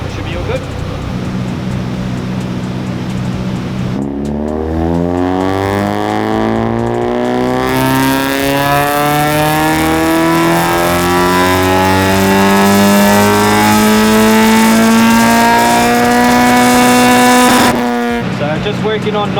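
A K-swapped Honda DC2 engine on a tuning session revs hard and holds a long steady rising pull at high rpm, loud and close, then drops abruptly back to idle.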